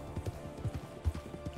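A horse gallops in the RedM video game, its hooves thudding in a quick, regular rhythm at low level, with faint talk in the background.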